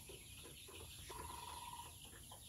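Eighteen-day-old Nahar layer chicks on a farm give a few short, high clucking calls, including one sustained note, over a steady noisy background.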